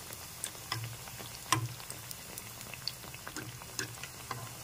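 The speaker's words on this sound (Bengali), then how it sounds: "এপাশ ওপাশ করে ঘুরিয়ে ফিরিয়ে একটু ভেজে নিতে হবে" Eggplant fritters (beguni) frying in oil, a soft steady bubbling and crackle with scattered small pops, fairly quiet and close, no voices.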